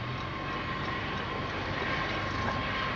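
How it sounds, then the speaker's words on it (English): A heavy CSX freight train with Canadian Pacific locomotives and a distributed power unit rumbles steadily past, a continuous broad roar of rolling cars with a faint high tone running through it; one engine has a broken knuckle. "CSX I-165 train there with the Canadian Pacific engines and the N train DPU"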